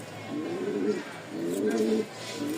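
Soft, low pigeon coos repeat in a few rolling phrases, close by, with a faint voice in the background.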